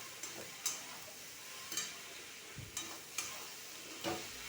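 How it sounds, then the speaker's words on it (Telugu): Green chillies fry in a pan for fried rice, a faint soft sizzle punctuated by several quiet ticks and scrapes of a spoon at irregular intervals. "పచ్చిమిర్చి వేసాను. ఇప్పుడు ఇది బాగా వేచుదాం."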